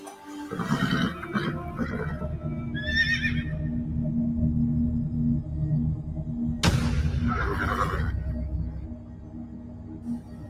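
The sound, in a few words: horse neighing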